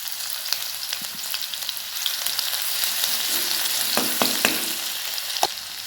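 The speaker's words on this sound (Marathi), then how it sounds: "सर्वात आधी आपल्याला आपण ठेचलेला लसूण टाकायचे, आपलं तेल गरम झालेलं आहे।" Crushed garlic dropped into hot oil in a pan for a bitter gourd fry, giving a bright continuous sizzle with a few sharp stirring clicks near the end.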